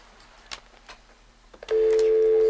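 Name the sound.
telephone call ringing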